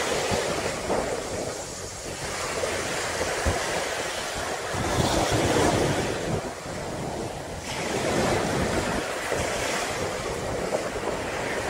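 Surf at Dadapan beach in Wonogiri rolls and washes continuously, swelling and receding in broad surges, a steady mid-distance roar with no voices.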